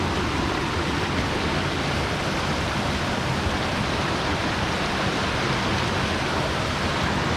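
Waterfall on a Mt Pinatubo volcano trek, a steady broadband rush of falling water that holds constant and fairly loud throughout, with no voices over it.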